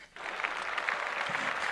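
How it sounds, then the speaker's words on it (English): A small group clapping together on a podcast, steady quick hand claps at moderate level beginning just after a brief quiet start and continuing to the end. "All right, let's clap it up."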